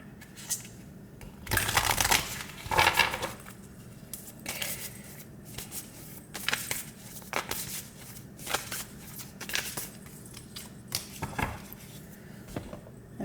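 Tarot cards drawn and shuffled by hand for a Sagittarius reading, a run of soft papery slaps and riffles, loudest in a burst early on, then scattered card flicks, close and fairly quiet, with no talking.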